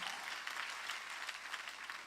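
A church congregation clapping hands together during a sermon, a soft, steady patter of many hands heard from a distance with no voices over it.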